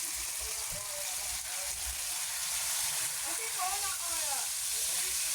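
Garlic, carrots and marinated chicken frying in a pan, a steady soft sizzle and hiss running throughout at moderate level, with a voice speaking over it.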